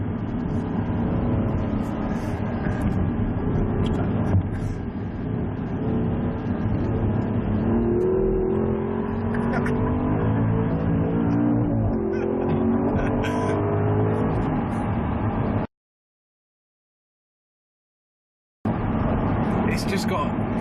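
An Audi R8 supercar engine revs hard and climbs steadily through its range, loud and close, before cutting out briefly and resuming.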